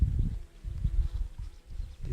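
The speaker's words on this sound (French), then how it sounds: "Des abeilles, tout ça." Bees buzzing low and close among the plants of a summer vegetable garden with climbing beans, a steady droning hum that wavers in loudness.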